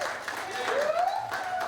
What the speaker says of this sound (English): let's give a round of applause to my wife